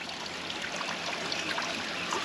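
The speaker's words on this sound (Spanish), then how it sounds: "La Virgencita hicieron como una especie de fuente" Water trickles and splashes steadily in a small fountain at the Virgin's apparition site in Guanare, a close, continuous bubbling flow with no voices.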